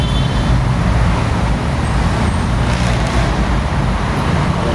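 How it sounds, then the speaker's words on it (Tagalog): Dense rush-hour traffic on EDSA at the Aurora corner in Cubao, a steady loud roar of cars, buses and trucks close by, continuous engine rumble with passing vehicles blending together and no speech. "Simula po dito sa Aurora Cubao, medyo mabigat na ang traffic."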